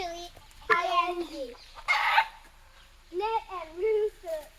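Wild chickens and a rooster on a hiking trail near Manoa waterfall in Hawaii cluck and call in several bursts, fairly close, with a voice and other chatter mixed in between.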